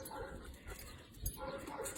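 A dog at an adoption shelter whimpers and yips softly in short, faint bursts against a busy, noisy background, with people speaking nearby.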